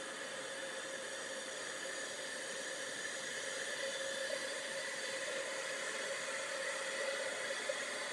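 Heat gun blowing steadily to melt embossing powder during card making, a constant airy whoosh with a whining tone that runs unbroken throughout, close and fairly loud with no talking.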